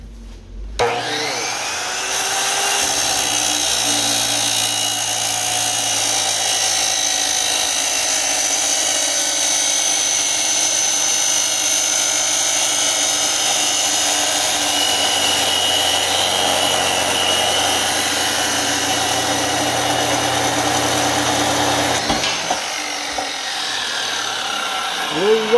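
A power saw cuts through scrap metal while a paint stand is being built, a loud, steady whining roar that runs nearly unbroken for about twenty seconds before cutting off abruptly near the end.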